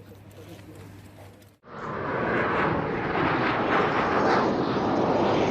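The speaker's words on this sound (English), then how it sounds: "This is the moment a plane crashed in Nepal on Sunday morning." A fixed-wing passenger plane in its final moments before crashing in Nepal: a low engine roar swells in after a brief quieter stretch and holds loud and steady to the end.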